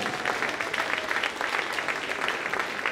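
Audience applause at a folk dance ensemble concert in a culture centre, a steady wash of clapping from a large crowd sustained throughout at moderate loudness.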